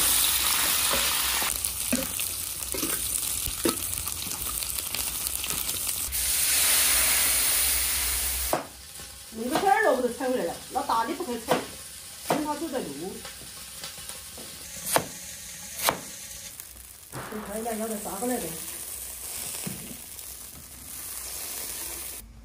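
Cured pork skin being stir-fried in a wok, with a steady frying sizzle that fades in and out and sharp scraping stirs of the spatula against the pan. No one talks.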